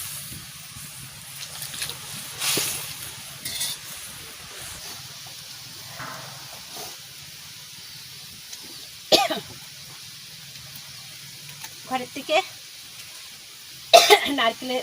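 Several scattered coughs and throat clearings from dried chili fumes in hot oil, some nearby and some fainter, over a quiet hissing background, with a few brief spoken words.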